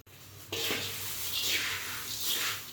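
Fried corn flakes chivda tossed with spices in a large vessel, giving a continuous dry rustling and crackling as the crisp flakes are stirred, with swells in loudness as they shift.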